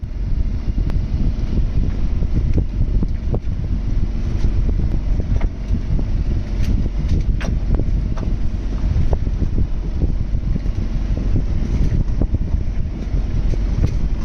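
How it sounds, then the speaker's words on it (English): Strong wind buffets a sailboat crossing a strait on open water, a steady loud roar of wind noise with low rumble and occasional clatters throughout, no voices. "I went from like no wind and having to motor across the strait to like almost too much wind in about 15 minutes."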